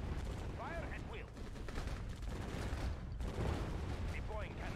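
Cannon fire in the Red Alert 2 real-time strategy game on an Arctic Circle map, a dense barrage of heavy booming shots over continuous rumbling battle noise, with unit voice lines mixed in.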